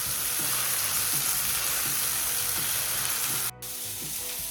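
A beef patty frying in a pan, a steady loud sizzle with a hissing crackle, close up and continuous, with a momentary drop near the end.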